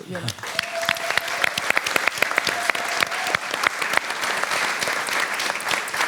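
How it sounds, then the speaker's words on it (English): An audience at a peace event bursts into sustained, dense applause, many hands clapping loudly and continuously, with a few voices and a brief tone audible beneath it. "please join me in giving a warm applause to her."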